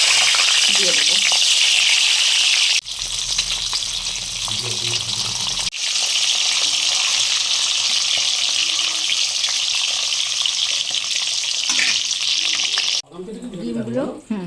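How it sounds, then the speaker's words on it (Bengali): Eggs frying in hot oil in a village kitchen, a steady loud sizzle running almost throughout, briefly interrupted twice, with faint talk and clatter underneath and a different scraping noise at the end. "আরে তেলটা গরম হয়ে গেছে, এবার ডিমগুলো দিয়ে দেবো।"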